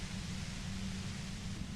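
An industrial compressor in the video game Disco Elysium emits a dense, steady hiss of white noise with a low rumbling undertone, constant and overwhelming with no voices.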